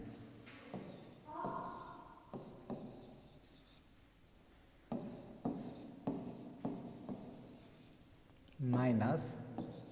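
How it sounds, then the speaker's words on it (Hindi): Numbers written by hand for a class 3 weight subtraction problem, giving soft scratchy pen or chalk strokes in short repeated bursts, near and quiet, with a voice talking in between. "तो इसको पहले लिख देते हैं।"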